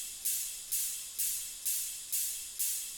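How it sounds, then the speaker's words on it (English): Six evenly spaced ride cymbal strikes in a progressive house track ring out with bright, shimmering sustain in a steady pulse, quiet and on their own. "Yeah, simple rides."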